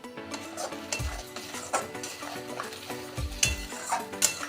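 Poppy seed paste mixed with water is stirred into a hot pan, giving repeated metal scrapes and clinks of utensil on pan over a soft sizzle.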